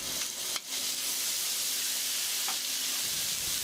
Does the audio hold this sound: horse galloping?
no